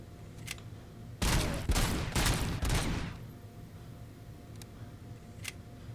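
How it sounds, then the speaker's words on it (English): Heavy machine gun fire in a shooter video game: several loud, tightly spaced bursts of rapid automatic shots over about two seconds, followed by a few faint single pops against a low background hum. "That guy's on a heavy machine gun."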